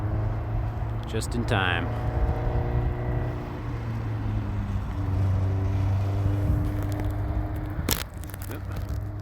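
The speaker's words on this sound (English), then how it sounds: "Here comes a Caterham." A Caterham sports car at an autosport driver instructional event drives past, its engine drone building steadily and holding loud near the listener, with people talking over it.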